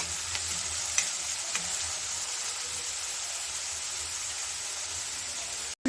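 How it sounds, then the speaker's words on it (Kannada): Onions sautéing in a pan, a steady close sizzle and hiss with a few faint clicks of stirring, cut off abruptly at the end. "ಈರುಳ್ಳಿನ ಚೆನ್ನಾಗಿ ನಾವು ಬಾಡಿಸ್ಕೋಬೇಕಾಗತ್ತೆ"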